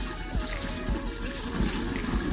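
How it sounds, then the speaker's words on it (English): Bleach water is poured slowly down a sink drain to kill drain gnats, a close, steady splashing and gurgling of liquid with no talk. "we're going to add some bleach, about another half a cup, and we are going to pour half here"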